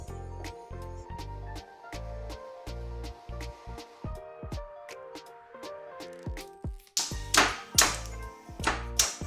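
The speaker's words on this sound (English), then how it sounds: "Just pound it a bit to give a good smell for the soup." A mortar and pestle pounds garlic for a Thai duck noodle soup broth, giving a run of close, steady hollow thuds that speed into sharper, louder knocks near the end, with no talking.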